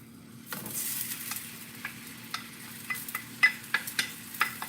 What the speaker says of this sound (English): We need to saute it a little bit to get the flavor out from the lemongrass and the kaffir leaves